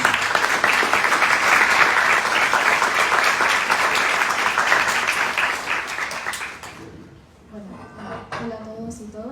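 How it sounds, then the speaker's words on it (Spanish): An auditorium audience at an academic workshop presentation claps in a loud, dense, sustained burst of applause that fades out near the end, giving way to a voice beginning to speak. "Así que un aplauso para todos ustedes y que sean una buena jornada."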